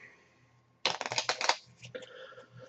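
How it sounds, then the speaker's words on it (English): An item card deck from The Possession board game is shuffled, with a quick burst of riffling card slaps after a quiet start, followed by softer shuffling and settling of the cards, close and alone. "they're going to shuffle the item deck"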